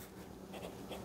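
Hero 8007 Chinese fountain pen with a fine nib writing on paper, a soft continuous scratchy glide with a few brief stroke accents, close and quiet with no talking.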